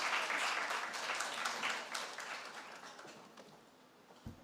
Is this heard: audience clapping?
yes